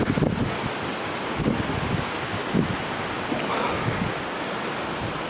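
Gusty wind batters the microphone in an open harvest field with a Fendt tractor and Krone baler, a steady broadband rush broken by repeated low thumping bursts.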